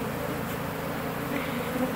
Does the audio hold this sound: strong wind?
no